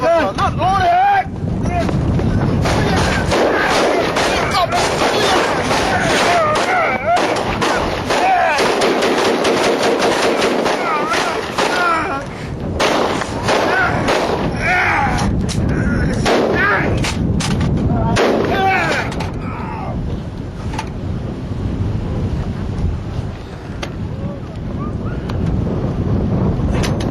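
Gunfire from a police shooting incident on a training tape: loud, repeated sharp reports through the clip over heavy wind noise, with shouting voices mixed in.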